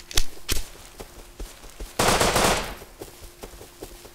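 Gunfire from the survival game Rust rings out as several sharp single shots spaced about half a second apart, then a dense, loud burst of firing in the middle of the clip, followed by fainter scattered shots.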